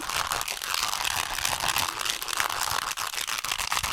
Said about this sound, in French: Je vais brasser le cube Rubik.